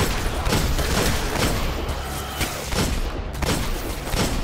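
Gunfire from the video game Destiny comes as dense, continuous loud bursts of shots and booms that fill the whole stretch with no pause.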